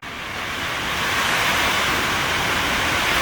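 Hurricane Helene's wind roars through whipping trees in a steady, loud, broadband rush that swells in the first second and then holds constant, with no voices.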